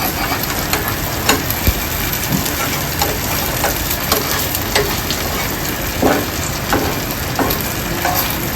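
Sweet wheat flatbread frying in a little oil on a low gas flame, a continuous close sizzle with soft crackles and occasional light taps, steady and fairly loud with no voices.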